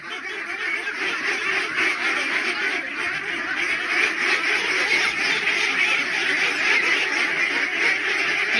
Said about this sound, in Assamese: এইফালে হাঁহ চব এইখিনি আছে আচলতে এয়া 56 দিনৰ হাঁহ